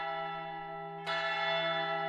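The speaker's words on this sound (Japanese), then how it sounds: "葬送の鐘だ。" A funeral church bell in the video game Moon Ghost tolls with a sustained resonant hum, then a second bright strike lands about halfway through and rings on clearly over the decay.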